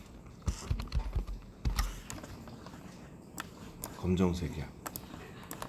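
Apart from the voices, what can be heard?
typing text on a computer keyboard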